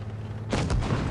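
IS-4 heavy tank firing its cannon in World of Tanks Blitz, a single sharp boom that breaks in suddenly and rolls out briefly over a steady background hum.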